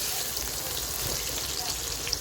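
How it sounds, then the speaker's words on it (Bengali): Beetroot, potato and kohlrabi fry together in a pan for a traditional Medinipur vegetable dish, giving a steady close sizzle with faint spatters and occasional stirring, unbroken and even throughout. "এইবারে বিট, আলু, ওলকপি সব একসঙ্গে ভেজে নিচ্ছি"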